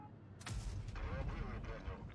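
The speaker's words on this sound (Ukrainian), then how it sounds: "Два успішні постріли, скидаю барабан" A heavy tank cannon blasts once in World of Tanks Blitz, a booming shot with a long rumbling tail, followed by fainter follow-up rumbles while someone talks quietly.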